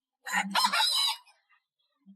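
A single Onagadori rooster crows once, loud and close, a strained cock-a-doodle-doo followed by near silence and a faint short call at the end.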